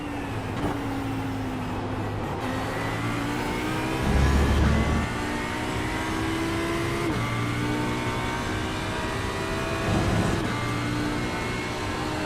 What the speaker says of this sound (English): But I've got a very fast Porsche behind me now.